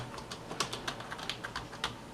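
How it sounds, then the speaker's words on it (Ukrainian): Typing on a Defender Oscar SM 600 Pro black keyboard, a quiet, lightweight full-size model: a steady run of soft, close key clicks with about a dozen distinct taps at an irregular pace, with no voices. "Тихенька, легенька, гарна клавіатура."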